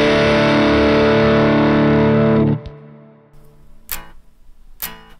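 Electric guitar through an old McPherson Rockbox distortion pedal run on a starved voltage, a loud fuzzy sustained chord that cuts off abruptly, followed by a few sharp plucked notes.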